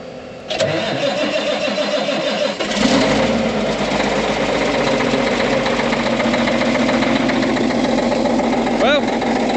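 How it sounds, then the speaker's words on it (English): An excavator engine cranks and starts in cold weather, then settles into a steady, loud idle that runs continuously close by, with a brief metallic squeal near the end. "excavator started, tractor started,"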